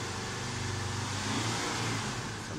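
A camper van's engine runs up hard and holds a loud, steady, close rev with a deep rumbling drone and no speech over it.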